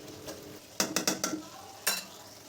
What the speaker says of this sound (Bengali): একটু শাকটা নাড়িয়ে দেব